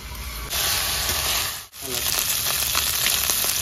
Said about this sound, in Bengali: বন্ধুরা মাছ ভাজা হয়ে গেছে, এবার নামিয়ে দিচ্ছি আমি